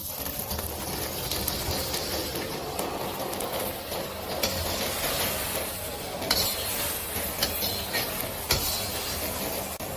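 Garlic scapes and eggs sizzling in oil in a wok while being stir-fried, a loud continuous hiss with scraping stirs and occasional clacks of the utensil against the pan.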